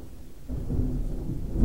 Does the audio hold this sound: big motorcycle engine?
no